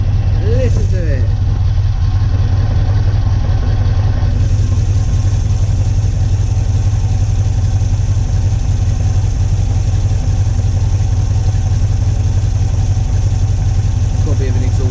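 A car engine more than 50 years old idles steadily with a slight exhaust blow near the bottom, a loud continuous low rumble that runs alone throughout.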